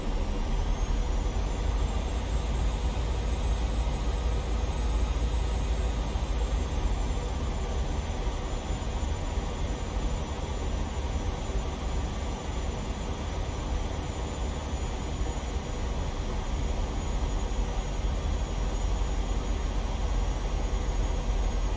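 Steady, loud aircraft engine drone in a flight simulator game during a short final approach to runway 22 over Houston, continuous and unbroken with no voices.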